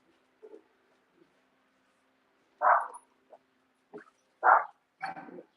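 A dog barks several times in short, separate bursts, fairly close, with quiet pauses between them and a faint lower bark early on.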